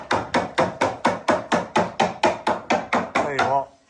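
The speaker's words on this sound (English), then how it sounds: "Lads are just hammering" Loud, close hammer blows striking jig stangers on a building site, about a dozen evenly spaced hits in a steady rhythm, with no talk over them.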